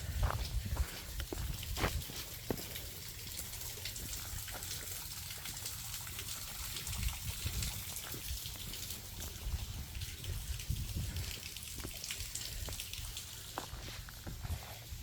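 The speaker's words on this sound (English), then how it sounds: "And there's a little waterfall." A small waterfall on a hiking trail in Sherwood, Tennessee trickles and splashes steadily at moderate distance, a continuous watery wash with occasional footsteps crunching on the path.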